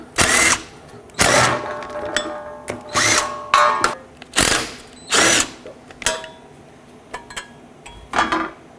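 Power tool spinning out three 10mm backing plate bolts on a 2007-2010 Chrysler Sebring during a ball joint job, a series of loud short whirring bursts with brief pauses, plus clinking metal and tool handling between them.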